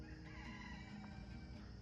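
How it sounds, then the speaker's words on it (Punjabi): Roosters crowing at dawn on a rural roadside in Ontario, Canada; a drawn-out crow rises over steady low background noise, close and fairly loud, with no talk. "ਮੁਰਗੇ ਬਾਂਗਾਂ ਦੇ ਜਾਂਦੇ ਆ"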